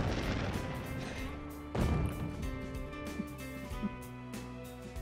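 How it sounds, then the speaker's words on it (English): A smart bomb detonates in Crisis Core: Reunion with a heavy crash near the two-second mark, followed by a few smaller impacts over a dense, continuous game soundscape with music. "There's our smart bomb."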